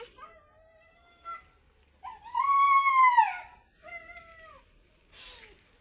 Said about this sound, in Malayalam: എന്റെ പട്ടി കരയുന്നത്